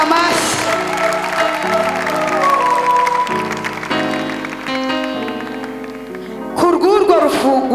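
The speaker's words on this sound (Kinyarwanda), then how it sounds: "Bivuze ngo muri iri teraniro komera Imana amashyi." A church congregation claps in a cathedral, a continuous patter of applause running beneath sustained music and singing, swelling slightly near the end.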